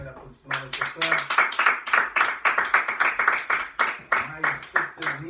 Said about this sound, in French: On devrait redonner une main d'applaudissement au professeur.